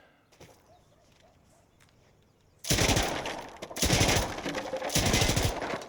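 Machine gun fire in Insurgency Sandstorm, loud sustained automatic bursts that start abruptly after a quieter stretch of light footsteps and ambience, with two or three long rapid strings of shots close by.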